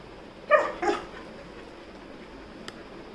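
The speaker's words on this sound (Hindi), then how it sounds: "अभी देखना ये फिर भौंकने वाला है" A German Shepherd gives two sharp, close barks in quick succession indoors, followed by quiet room tone and a faint small click.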